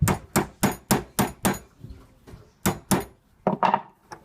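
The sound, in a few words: small hammer tapping to straighten a broken spoon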